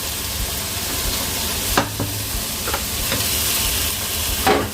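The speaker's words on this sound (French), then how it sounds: "Lorsque nos oignons ont tué, nous allons mettre de la purée d'ail." Garlic purée added to sizzling onions in a frying pan for couscous royal, a loud steady frying hiss with a few sharp stirring scrapes and clinks, close and continuous.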